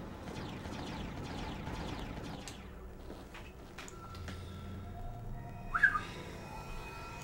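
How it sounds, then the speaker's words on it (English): A person whistles a short tune near a microphone while playing the 2004 Transformers game on PS2, giving thin wavering tones over faint background game sound, with one sharper, louder note near the end. "Sorry, I shouldn't whistle."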